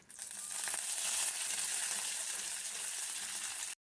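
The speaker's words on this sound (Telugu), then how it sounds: "ఆయిల్ వేసుకొని వేడయ్యాక కొంచెం ఆవాలు, జీలకర్ర, ఎండుమిర్చి వేసి వేయించుకోవాలి" Mustard seeds, cumin and dried red chillies fry in hot oil in a thick pan, giving a steady, close, bright sizzle with faint crackles that holds evenly for a few seconds and then cuts off abruptly.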